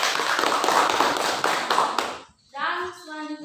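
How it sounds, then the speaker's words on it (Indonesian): A classroom audience claps for a presenting student group, a dense burst of hand claps lasting about two seconds, then fading out before a voice speaks. "Kita beri aplaus untuk kelompok 3."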